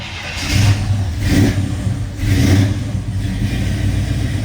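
A 1969 Chevrolet Chevelle SS V8, started with a push button under the dash, runs close and loud, its engine swelling in three revs before settling into a rough idle.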